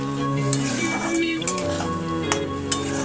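Potatoes and spice paste sizzle steadily while sautéed in a pan for a vegetarian paneer, potato and pointed gourd curry, with a few sharp clinks of a stirring utensil against the pan over the continuous frying hiss.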